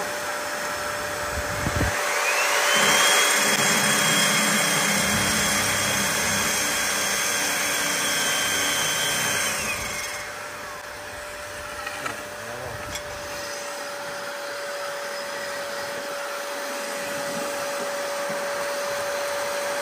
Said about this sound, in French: je démarre la carotteuse, on enlève la percussion